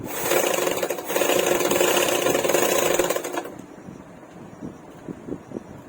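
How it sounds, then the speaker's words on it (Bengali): A sewing machine runs steadily for about three and a half seconds, stitching a line along blouse fabric for a double-katori blouse, then stops, leaving soft fabric handling and light taps. "এর উপর থেকে একটা চাপ সেলাই দিয়ে দেবো"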